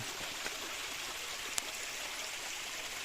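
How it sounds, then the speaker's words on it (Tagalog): Water flows and trickles steadily from a spring rising out of the ground nearby, a constant gentle babble with one brief sharp tap partway through. "Dito naman ang bukal dito."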